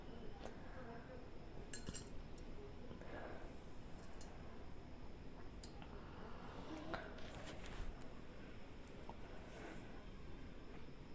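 Tempered rice with green chilies, ginger and curry leaves is stirred with a metal spoon against a pot, giving soft squishing and scraping with occasional sharp clinks and taps, close and steady.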